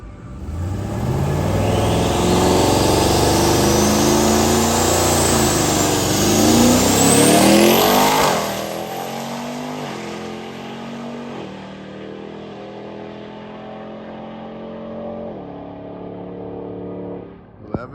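A Ram TRX pickup truck accelerates hard down a race track, a loud rising engine roar with climbing gear pitches and a whine, then the sound falls off and steadies as it pulls away.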